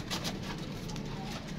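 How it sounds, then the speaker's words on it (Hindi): Pigeons coo close by with soft, repeated throaty calls over a steady background murmur. "माशाल्लाह ये कबूतर है"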